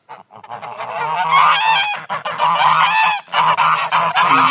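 Loud, close honking from several domestic geese, a gander and three females, overlapping calls in bursts with short pauses, no talking.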